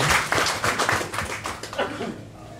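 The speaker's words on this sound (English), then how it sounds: "I'd like to ask you to give ourselves a round of applause" Audience applause for a 25th anniversary gathering, a burst of many hands clapping close by that thins out and fades over a couple of seconds.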